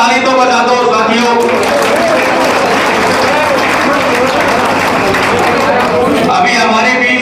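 A large crowd claps in sustained, dense applause at an outdoor ceremony honouring former soldiers, loud and continuous throughout, with a voice over a speaker system faintly mixed in.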